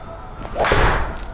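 A swift whoosh of a golf driver swinging through the air without shaft flex, ending in a sharp, hard-sounding smack against a ball, close by and brief.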